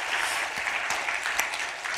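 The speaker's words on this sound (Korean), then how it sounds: "마지막도 박수 한번 치죠?" Congregation clapping at a church gospel meeting, a dense steady wash of many hands sustained at even loudness throughout, with no voices over it.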